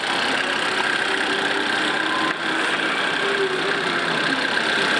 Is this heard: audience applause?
no